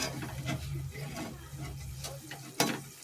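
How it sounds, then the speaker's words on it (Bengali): Hinche greens pakoras frying in hot oil, giving a soft steady sizzle with clinks of stirring and turning, quiet and close, with a sharper clatter near the end. "দেখো এখন এইটা ফ্রাই হচ্ছে"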